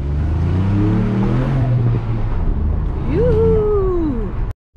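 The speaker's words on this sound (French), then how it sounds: "on va ouvrir la vitre pour entendre plus chanter le moteur" A 2021 Ford Puma ST200 engine revs hard nearby, its deep roar climbing steeply in pitch as it accelerates, then cutting off abruptly.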